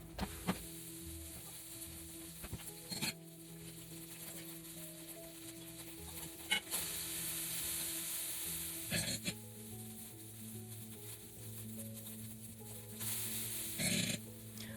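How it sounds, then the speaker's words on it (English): Rice sizzles steadily in vegetable oil in a miniature cast iron pan, a continuous close hiss with occasional louder bursts and scrapes as it is stirred. "I'm putting the rice in there and let that cook for about 3 to 4 minutes"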